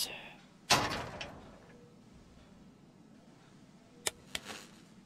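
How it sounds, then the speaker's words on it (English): A door slams shut in the Final Nights 3 video game, one sharp, loud broadband thud followed by a fading tail, with two brief clicks and a softer knock a few seconds later over a low background hum. "click on the door to close it"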